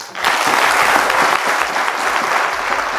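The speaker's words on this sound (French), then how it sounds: "j'aimerais qu'ils s'applaudissent eux-mêmes" Audience applause at a café event, a dense, steady clatter of many hands clapping close by, sustained without a break and with no speech over it.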